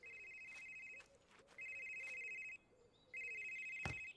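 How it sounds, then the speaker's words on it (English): A cell phone rings in the horror game Someday You'll Return, three repeated electronic trill bursts with short gaps between them, fairly clear, followed by a sharp click. "It's my phone."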